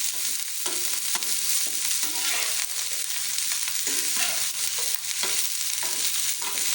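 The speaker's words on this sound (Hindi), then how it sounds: "फ्लेम को मीडियम रखना है ताकि भिंडियाँ हमारी जले ना।" Okra with green chillies frying in a pan over medium flame, a dense continuous sizzle with scraping and clacking as it is stirred, close and loud with no talk.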